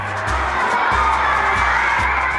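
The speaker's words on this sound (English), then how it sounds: "give her a round of applause." An audience at a community education event applauds with steady crowd clapping, mixed with some cheering and scattered voices.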